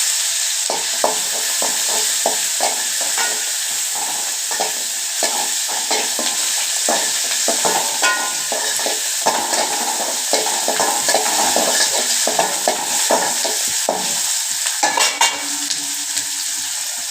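Shallots, garlic and tomato fry in a pan with a loud, constant sizzle close by. A spoon stirs and taps against the pan in a quick, irregular rhythm throughout.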